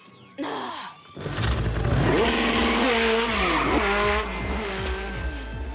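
A cartoon motorcycle speeds away after a sharp start, engine revving through rising and falling gear shifts with screeching tire sounds, loud and close, then fading slightly.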